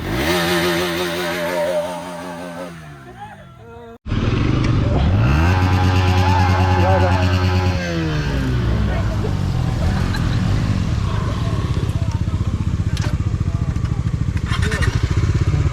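An off-road motorcycle with no exhaust fitted revs loudly up close, engine pitch climbing and falling in repeated throttle bursts after a brief lull, with a voice speaking over the raw roar.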